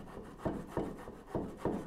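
A hand saw cuts wood for a Moxon vise workbench vise, with steady rasping strokes in an even rhythm, about five pushes close by, with no talk.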